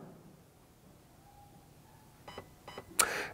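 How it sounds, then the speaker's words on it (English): Two short electronic beeps from a Gate Aster MOSFET fitted in an airsoft gun, set to burst mode, sounding close and clear, with a louder click or rattle from the gun right after the second beep. "Here you will hear 2 beeps"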